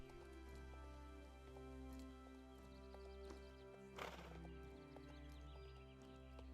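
A horse in training makes clip-clopping hoof beats, and one brief louder burst near the middle may be a neigh. The sound is faint and distant, set against a steady low hum.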